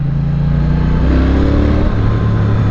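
A Triumph T100 motorcycle engine accelerating hard, loud and close, with a steady rising drone and shifting harmonic tones that climb through the revs without a break.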